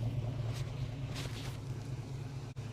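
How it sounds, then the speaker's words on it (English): A Holden HK's engine idles in a steady, low drone evenly throughout, close by, with faint wind noise and no talking. "She's idling perfectly."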